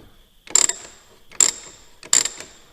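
The ratcheting starter drive from an IH 1086 tractor is turned by hand, giving three short, crisp clicking bursts spaced about a second apart, close up in a quiet space.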